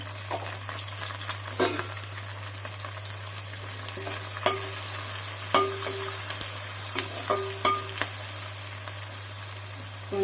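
Onions, green chillies and curry leaves frying in hot oil for a prawn and raw mango curry, a steady sizzle broken by scattered spatula scrapes and stirring clatters, close and alone over a constant low hum.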